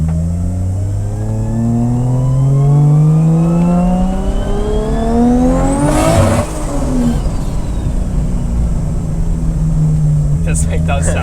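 A 450 hp caged Nissan S14 with a turbocharged RB25DET and external wastegate revs hard, its pitch climbing steadily to a sharp peak before dropping off, loud and close.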